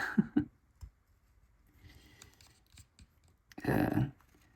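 A knife taking paring cuts toward the carver while carving a simple wooden bear: faint, close scraping and shaving strokes in short separate bursts, with one stronger cut near the end.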